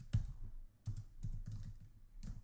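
Computer keyboard keys clack in short irregular bursts of typing, close and fairly quiet, with no voices.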